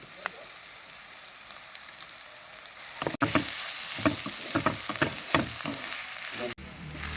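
Crushed ginger and garlic dropped onto softened onion in hot oil: near silence gives way to a sudden loud burst of frying, then a dense sizzle with stirring scrapes, close up.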